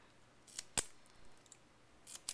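Scissors snip pieces of foam tape while making a craft ornament, a few sharp, quiet close cuts scattered over a hushed background with no speech.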